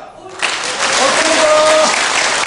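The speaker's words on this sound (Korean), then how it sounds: "여러분들 박수 주시니까" Audience clapping at a Korean political talk rises from a quiet start into steady, dense applause filling the room, with a brief sustained tone running through it and no voices on top.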